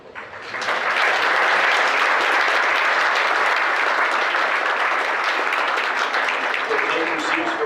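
Sustained applause from an audience honoring cadets at a Veterans Day ceremony in Fort Walton Beach, Florida, rising quickly and holding steady and loud for several seconds.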